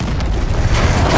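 A grenade blast in Call of Duty: Advanced Warfare, a loud, dense low boom that rolls steadily for about a second with no quiet gaps.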